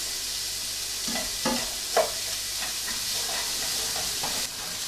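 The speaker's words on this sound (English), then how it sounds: "Let that fry out, let it soften" Carrot frying in a pan for a steak pie filling, a steady bright sizzle with a few soft stirring knocks, close and fairly quiet with no voices.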